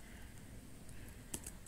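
Computer keyboard typed on while entering a file path, a few soft scattered key clicks near the end, very quiet against a faint steady hiss.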